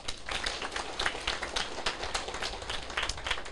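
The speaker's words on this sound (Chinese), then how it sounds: "何瑞元就在后面，大家给他拍拍手。" An audience at an indoor political gathering breaks into dense, steady applause that lasts throughout at a moderate level, with no talking over it.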